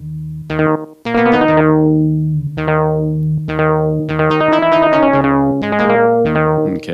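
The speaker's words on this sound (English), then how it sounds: "Okay, slap back." A synth played through the slap back setting of an IK Multimedia X-time delay pedal, with loud plucked notes and chords each followed by a quick, tight single echo, in an uneven rhythmic phrase and no talking.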